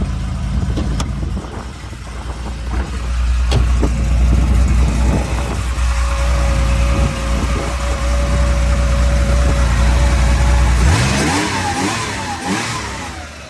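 The engine of a 1980 Porsche 911SC, which has a fuel leak, runs steadily at close range, a low rumble with a higher whine, then revs up sharply near the end.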